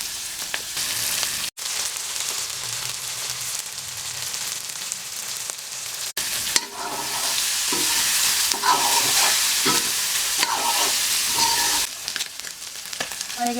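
About 250 grams of spice-coated fish sizzling steadily in hot oil, a continuous close frying hiss with occasional crackles and brief gaps.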